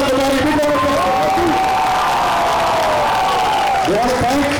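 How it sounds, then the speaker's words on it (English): A crowd claps and cheers for actress Tamannaah Bhatia at a youth awards event, a loud continuous roar of applause with whoops, while a voice carries on speaking over the noise. "Big round of applause."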